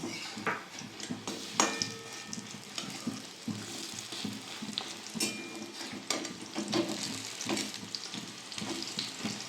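Oil sizzles and crackles steadily as fish roe fritters fry in a pan and are flipped, with occasional clinks and scraping of a utensil.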